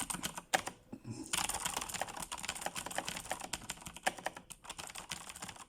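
Typing on a computer keyboard, with rapid clustered key clicks in an uneven rhythm, occasional pauses, and heavier spacebar presses, close and clear with no voices.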